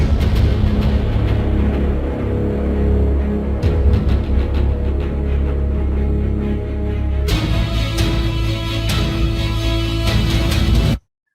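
A film music cue plays for about eleven seconds as a dense, sustained orchestral texture with a low, steady foundation. Partway through it cuts abruptly to a brighter, fuller section, then stops dead.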